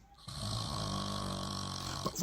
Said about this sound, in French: Il dort, il ronfle, il s'oublie,